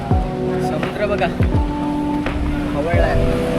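Rough, churning sea at Kanyakumari, near the Vivekananda Rock Memorial where three seas meet. Waves crash in a steady roar, with repeated low thumps against the shore or a boat and no one speaking.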